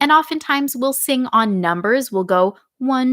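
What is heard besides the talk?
No distinct noise like a dog, phone or traffic.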